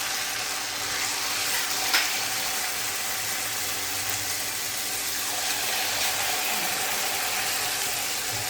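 Urad dal vadas fry in hot oil, giving a steady, dense sizzle and crackle that holds evenly throughout, close and moderately loud.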